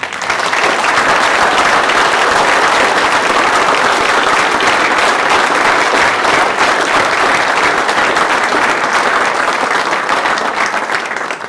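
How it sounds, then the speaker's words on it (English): School sports awards audience claps for students in sustained, loud, dense applause that holds evenly from start to finish with no talking. "could the audience please give these students a round of applause as an acknowledgement of their success?"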